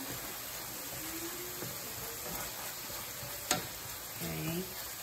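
Garlic frying in oil rendered from pork in a pan, a faint steady sizzle with a few light clinks and scrapes of stirring, close but quiet and without speech.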